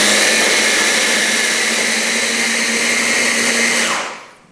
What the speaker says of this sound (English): See if we can get this blender to sort it all out.